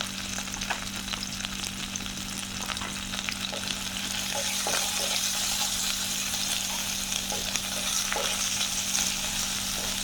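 Onions fry in oil in a pan, a loud, steady sizzle with soft stirring scrapes and small crackles throughout, close up with no talking.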